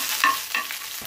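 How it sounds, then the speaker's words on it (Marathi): Green chilies sautéing in hot oil in a pan, a short frying hiss with a couple of brief sharp clinks of stirring, close and with no talk. "त्या मिरच्या चांगल्या परतून झाल्या"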